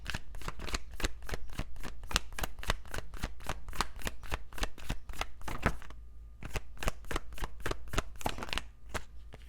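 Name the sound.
shuffling a deck of oracle cards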